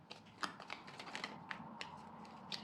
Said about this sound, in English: this card had turned over while I was shuffling